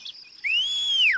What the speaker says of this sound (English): How to whistle to warn other gnomes.